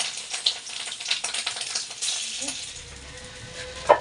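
Fish roe fries in a pan with a crackling, spattering sizzle and scattered sharp pops, fairly close, while a voice is heard talking faintly in the background.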